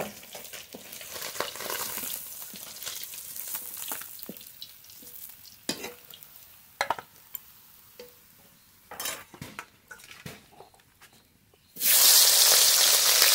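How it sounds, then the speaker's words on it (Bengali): Singhi fish fry in hot oil with a close, crackling sizzle while a utensil scrapes and clinks against the pan. Near the end a sudden loud burst of hissing takes over. "বাকি মাছগুলো একইভাবে ভেজে নেব।"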